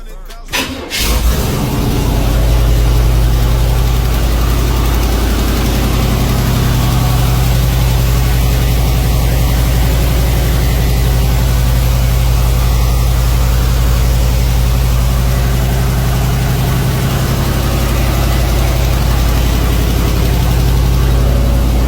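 A car engine cranks and catches, then settles into a steady, loud, close rumbling idle that runs on unbroken.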